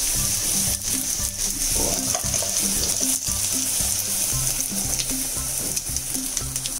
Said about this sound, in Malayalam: ഇവിടെ നന്നായിട്ടൊന്ന് ഇളക്കി കൊടുക്കാം.